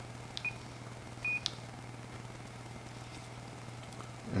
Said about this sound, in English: apologize for the beeps that are coming across the laptop there